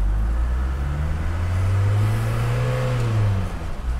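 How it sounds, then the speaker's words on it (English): A Mercedes G-Wagon 240GD diesel accelerates on a road, its engine note climbing steadily in pitch and loudness as it pulls through a gear, close and continuous, then easing off near the end. "We'll test out the acceleration right now."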